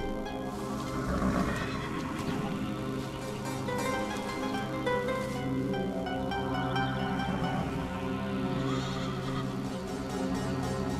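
A horse neighs and whinnies repeatedly over several seconds, loud and close, with possible hoof clip-clops and a busy dramatic soundtrack layered beneath.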